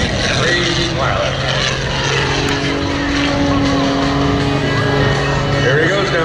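Skip Stewart's aerobatic propeller airplane climbing straight up at an air show, a steady loud engine drone with a rising tone across the whole stretch, crowd and announcer voices mixed beneath.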